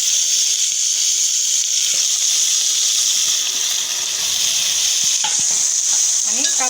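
Onion browned in a pan, now with half a spoon of turmeric, a spoon of salt and washed chicken added for chicken dum biryani, sizzling and frying loudly and steadily while it is stirred, with clinks of a spoon near the end.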